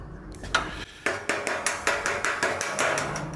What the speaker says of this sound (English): You can hear the hit and the miss, right? It goes from ding to clang.